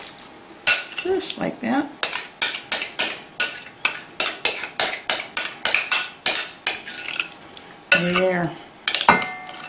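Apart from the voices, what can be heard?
spooning hot crab dip mixture into a casserole dish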